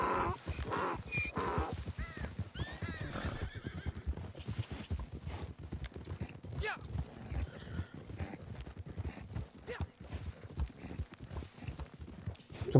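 Donkey hooves clip-clop steadily and rhythmically while riding in the Western video game Red Dead Online, with a few whinnies and bird caws near the start.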